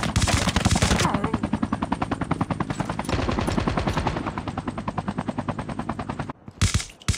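Automatic gunfire in the COD Mobile video game rattles in rapid, evenly spaced bursts, loud and close, for about six seconds, then breaks off into a few scattered shots.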